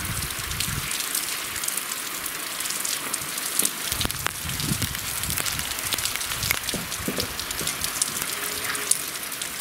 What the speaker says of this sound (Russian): Зарядил дождь.